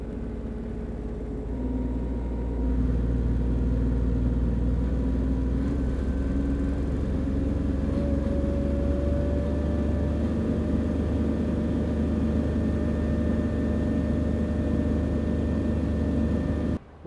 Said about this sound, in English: The Dual Maverick 450 will change its RPM depending on the welding output required.